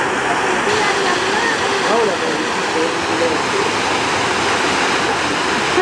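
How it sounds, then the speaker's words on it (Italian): A waterfall jet plunges into a warm thermal pool at an outdoor health spa, a loud, continuous roaring rush of water close by, with people speaking faintly underneath it. "Ti spinge sott'acqua il getto della cascata."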